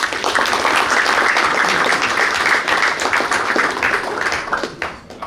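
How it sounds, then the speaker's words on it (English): Players at a boys varsity basketball banquet applaud the parents, a close, loud burst of many hands clapping that stays steady for several seconds before starting to thin out. "So players, we can clap it up for the parents."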